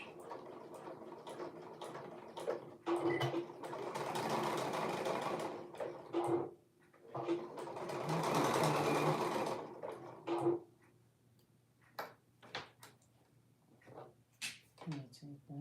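Domestic sewing machine running a back stitch on a garment, two sustained bursts of rapid needle chatter separated by pauses, with light clicks and handling noises and a person speaking in between.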